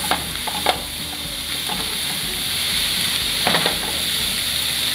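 Veggie fried rice made with leftover vegetables is stir-fried in a pan. It sizzles steadily and loudly, and a utensil scrapes and clinks against the pan now and then, all up close.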